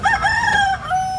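A rooster lets out a single clear crow with rising and falling tones, close by at a busy chicken market in Padre Garcia, Batangas, with faint background murmur underneath.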